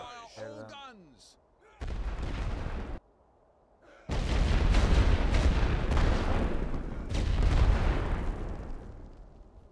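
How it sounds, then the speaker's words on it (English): Massed artillery barrage from a WWI Western Front strategy game, heavy booming gunfire in long, loud, dense blocks separated by a short quiet gap, rumbling continuously near the end. "Start the barrage. Teams ready for barrage. Fire all guns."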